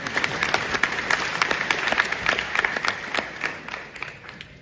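An audience at a stage play in Calgary, Canada claps continuously, many hands blending into an even roar of applause with occasional louder claps, fading slightly toward the end, with no talk over it.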